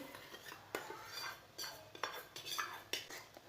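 Spoon scraping and clinking around a bowl while mixing mashed potato tikki ingredients with chili, coriander, cumin and ketchup, a series of light, close metallic taps and scrapes at an uneven rhythm, fairly quiet.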